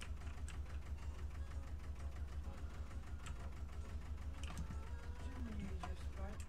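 A tractor engine in a farming video game rumbles in a steady low drone with a rapid mechanical chatter while it parks in a barn, with faint talk underneath.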